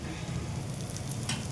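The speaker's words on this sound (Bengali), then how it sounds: "তেলটার মধ্যে শুটকিটা দিয়ে দেবো, দিয়ে দিলে তেলটার মধ্যে ভাজা হবে আর গলে যাবে।" Dried fish (shutki) fries in a little oil, a low, even, close sizzle with faint crackle that continues through the brief moment without speech.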